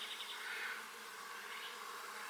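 Honey bees buzz over a hive frame as new bees emerge from the comb, a soft continuous drone of many insects, quiet and even, with no talking.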